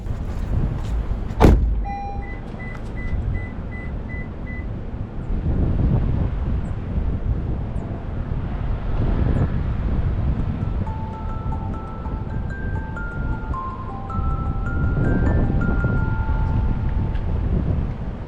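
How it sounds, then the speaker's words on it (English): Gusty wind buffets the microphone in low rumbling surges on a hilltop in a new-construction neighborhood in Celina, Texas, while a few bright melodic tones from outdoor musical instruments ring out faintly in the background. "It's still a little cold. Not crazy cold, but it's still a little windy."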